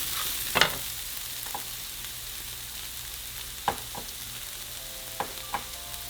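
Minced garlic fries in a pan for arroz con pollo, a continuous close sizzle broken by a few sharp spoon clanks and stirring scrapes, with no speech.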